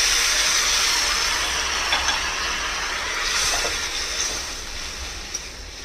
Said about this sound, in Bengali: এবারে এটার মধ্যে দিয়ে দেব বড় 1 কাপ গরম জল।